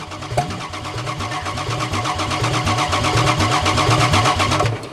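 A 4WD Daytona car engine running rough just after starting, a close, steady rhythmic chug that gradually steadies and grows slightly louder over the few seconds, with no talking.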